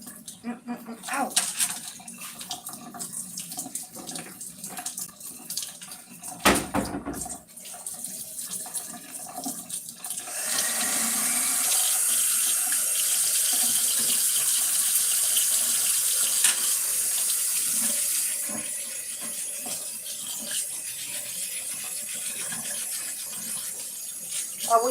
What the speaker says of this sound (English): I'm scrubbing my potato.